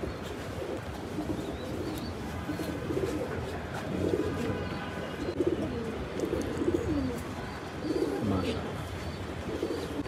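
Racing pigeons coo softly and repeatedly at close range, with low rolling coos running throughout amid a general loft hubbub.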